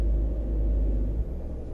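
Volvo VNL300 truck engine in American Truck Simulator, a steady deep low rumble holding close and constant, easing slightly near the end.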